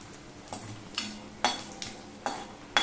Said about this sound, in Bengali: এবার একটা শুকনো লঙ্কা ফোড়ন দিয়ে দিলাম, একটা তেজপাতা দিয়ে দিলাম, আর দিয়ে দিলাম একটুখানি জিরে ফোড়ন।